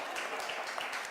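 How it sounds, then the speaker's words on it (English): Applause from an audience at an industrial entrepreneur week event, a steady wash of many hands clapping with no voices, fairly faint and continuous throughout. "I like people clapping hands for me"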